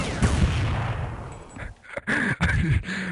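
Volleys of musket-style gunfire from a battalion in a strategy video game, a dense crackling salvo fading out, followed by a few more sharp shots after a short gap.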